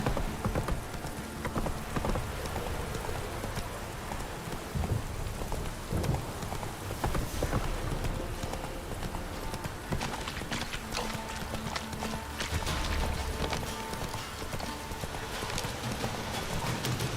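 Horse hooves clip-clop steadily on the ground in The Witcher 3 video game, a continuous trotting rhythm over a bed of rain and ambient noise, with no talk.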